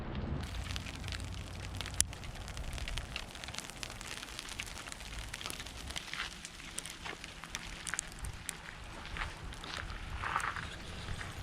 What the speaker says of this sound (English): it's a balmy 40-something degrees, and it's hailing